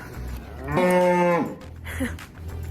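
In-calf cows before calving at dinner time give a loud, close moo with a strong drawn-out tone, then a shorter, fainter call about a second later, over steady barn background noise.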